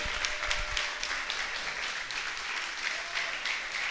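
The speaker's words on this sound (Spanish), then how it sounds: "brinden un aplauso fuerte a nuestro Dios" A church congregation claps loudly in praise, a busy, continuous patter of many hands that stays even throughout, with no talking over it.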